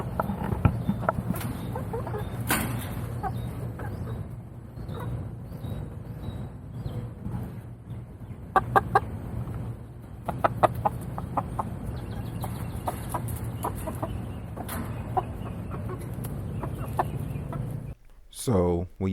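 Chickens cluck and murmur nearby in a steady outdoor chorus, with occasional sharper squawks rising above the low background rumble.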